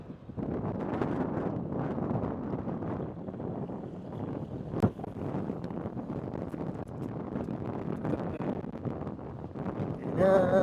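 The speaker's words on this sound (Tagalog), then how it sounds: "Hangin, malamig na." Cold wind buffets the microphone at the summit of Mt. Timbak in Atok, Benguet, a loud, steady roar with gusts, one sharp knock midway and a brief voice at the end.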